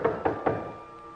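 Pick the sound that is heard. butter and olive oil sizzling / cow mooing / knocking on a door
knocking on a door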